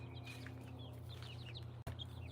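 Quiet chickens, including a small rooster, cluck and chirp softly over a steady low hum, with one brief click near the end.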